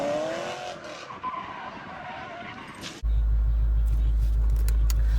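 A 2012 Ford Mustang GT convertible with traction control off squeals its tires and skids with engine noise, then a heavy, constant low rumble takes over abruptly for the rest of the clip.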